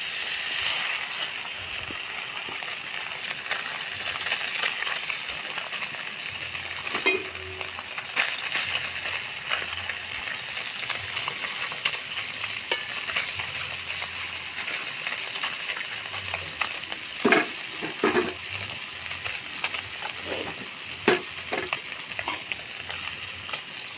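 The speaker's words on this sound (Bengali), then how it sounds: "আমি এবার সর্ষের তেল দিয়ে দিচ্ছি মাছ ভাজার জন্য।" Bhola fish frying in hot mustard oil in a kadai, a steady close sizzle running throughout with scattered louder pops and spatters toward the end and no talking.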